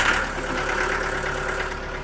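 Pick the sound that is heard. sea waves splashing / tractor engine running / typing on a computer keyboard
tractor engine running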